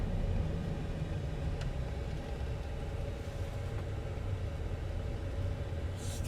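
Steady low road rumble and tire hum fill the cab of a moving 2016 Ford F-150 pickup truck, constant and moderate in level, with no talking.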